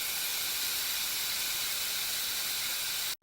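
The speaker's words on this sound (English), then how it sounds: "a small room filling with boiling hot steam" Steady, loud hiss of steam filling a small steam room, a continuous bright rushing noise with no pauses that cuts off abruptly at the end.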